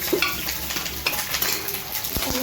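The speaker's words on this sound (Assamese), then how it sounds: "ভাজা ভাজা কৰি লওঁ" Dal with carrots, salt and spices being stir-fried in a pot, a steady close sizzle broken by a few scrapes and stirring clinks of a utensil against the metal, with no talk.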